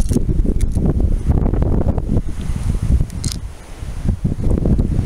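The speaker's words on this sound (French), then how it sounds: "vous voyez quand je parle de rafale de vent" Strong gusts of wind buffet the microphone outdoors at an air-rifle shooting table, a loud, continuous roar swelling and easing in waves with occasional rustling.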